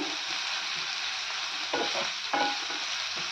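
Vegetables for wheat rava kichadi sauté in a hot pan with a steady close sizzle, broken by a couple of scraping stirs.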